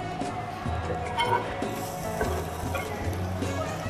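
Red onion sizzling in a hot pan, a steady frying crackle with scraping and rattling of a utensil against the pan throughout.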